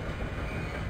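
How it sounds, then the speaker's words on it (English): A tram train in the Dead Space PS1 demake rumbles along with a steady, loud rolling roar of rail noise, sustained and close for a brief moment without any speech. "Oh, this is a train?"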